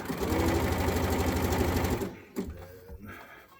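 A sewing machine back stitches on a DIY wrestling mask, its needle chattering fast and loud for about two seconds before stopping, followed by a few faint handling knocks.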